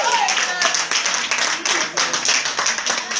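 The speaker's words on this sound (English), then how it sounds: "Can we all give her a round of applause?" An audience at a women's empowerment benefit gives a round of applause, lively clapping with irregular bursts throughout and voices heard under it.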